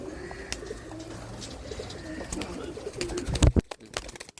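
Rampuri highflyer pigeons cooing inside a loft during training. Soft, repeated coos and low throaty calls sound close by, and wing flaps and a few brief knocks come near the end.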